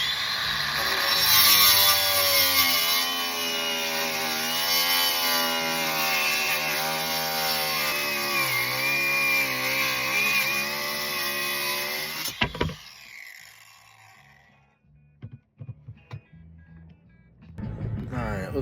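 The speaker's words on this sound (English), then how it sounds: "I'm actually using a metal cutoff wheel on my angle grinder to make these cuts in the wood here" An angle grinder fitted with a metal cutoff wheel whines loudly and steadily as it cuts into a piece of wood, its pitch wavering under load for about twelve seconds before cutting off, leaving faint knocks and handling sounds.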